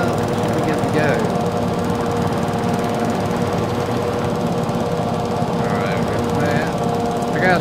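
A lawn mower in a lawn care roleplay video game drones with a steady engine rumble throughout, loud and constant, while a player talks over it.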